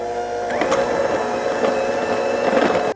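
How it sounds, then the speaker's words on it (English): Icing being whisked with a splash of milk for Christmas cookies, a steady busy mechanical whirr with rhythmic clinks running the whole time, close and fairly loud, with no talking. "And whisk it up and see how it looks."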